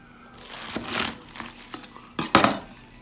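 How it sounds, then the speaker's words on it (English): A kitchen knife cuts around the core of a cabbage on a board, giving scattered soft scrapes and clicks, then a couple of louder knocks near the end, close and fairly quiet. "we're gonna take our knife and we're just gonna cut along the side of it"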